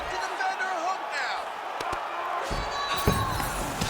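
A virtual arena crowd in EA Sports UFC 5 swells into cheering during a women's MMA ground fight, heard with impact thuds and slams beneath a commentator talking throughout.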